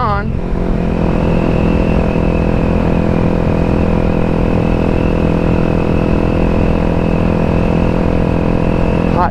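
Grom clone motorcycle fitted with a Daytona 212 engine and a custom exhaust, revving loud and close and holding a steady high-rpm drone throughout, with no talk.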